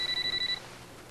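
A cell phone rings indoors with a rapid string of bright electronic pulses for about half a second, then stops, leaving quiet room tone.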